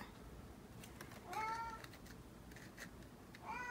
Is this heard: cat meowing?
yes